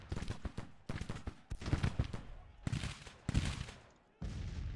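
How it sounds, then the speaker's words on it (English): Cannon fire in the Grand Tactician Civil War game, a rapid series of loud booming blasts in irregular bursts with rumbling decays, then a sustained roar of battle noise at the end. "these cannon firing straight into the side of a rock surface"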